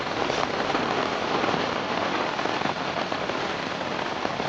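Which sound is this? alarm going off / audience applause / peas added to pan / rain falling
rain falling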